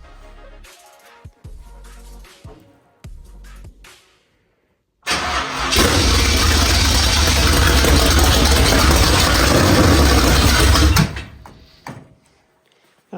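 A Midwest Modified race car engine cranks with a few short starter bursts, then fires into a loud, harsh, steady roar for several seconds before cutting back down, close up.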